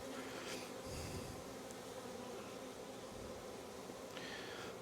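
Honey bees buzz steadily around an open queenless hive worked without smoke, a soft continuous drone with occasional louder passes of individual bees close by.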